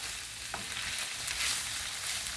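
Chicken livers frying with onions in a pan give a steady close hiss and sizzle, with a faint clink of stirring partway through.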